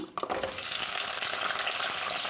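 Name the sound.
whole shallots sautéing in hot oil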